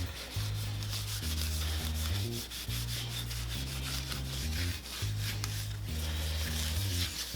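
A cloth rubs boiled linseed oil onto a walnut board in a continuous soft scrubbing swish, heard under steady background music with a repeating bass line.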